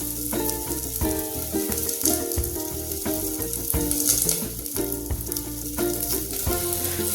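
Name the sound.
small-cut potatoes frying in a pan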